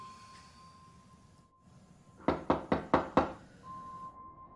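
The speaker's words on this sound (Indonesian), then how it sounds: "Fitri yang mengantuk mendengar suara ketukan pintu." Five sharp knocks on a door at night in a quiet house, evenly spaced and loud, standing alone after a stretch of low hum and a steady faint tone.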